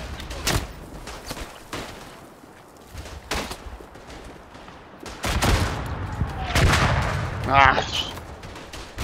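Artillery shells and gunfire from the World War I game Tannenberg: several loud, sharp blasts and thuds go off at irregular intervals, with players talking over the barrage.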